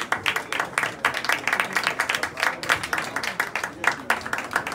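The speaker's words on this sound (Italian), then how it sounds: "facciamo un applauso a Samantha." A crowd at a beauty pageant awards ceremony claps steadily in a dense burst of applause, with voices murmuring and calling out underneath.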